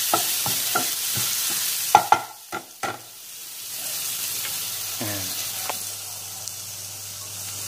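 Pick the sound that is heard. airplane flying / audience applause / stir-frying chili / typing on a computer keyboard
stir-frying chili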